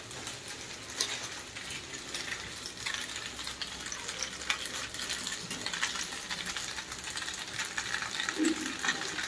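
Pasta being stirred and fried with masala in a pan, a steady close sizzle with soft scraping stirs running throughout.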